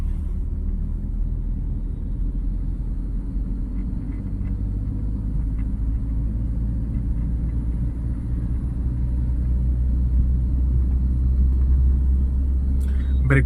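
A car drives in city traffic and gradually speeds up, with a steady low engine and road rumble that swells slightly toward the end. Voices talk over the driving.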